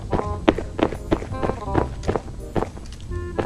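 Footsteps in a horror video game, a run of about eight distinct steps at a brisk, even pace, fairly close and moderately loud, with faint tonal game ambience behind them.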